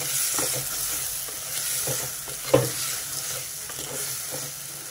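A spoon stirs a bean and fenugreek leaf curry seasoned with rock salt, scraping and clinking softly in the pan over a steady gentle sizzle, with one sharper knock midway.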